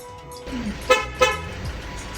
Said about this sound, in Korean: 다시 한번 시동을 걸고